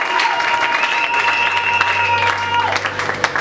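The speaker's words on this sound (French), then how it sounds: "Est-ce que nous pouvons acclamer pour le Seigneur?" A church congregation at a Friday evening service applauds for the Lord with steady, sustained clapping, while a held musical tone rings and a voice speaks over it.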